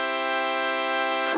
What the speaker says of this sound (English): when you turn off that famous modulation effect, the thing actually sounds like this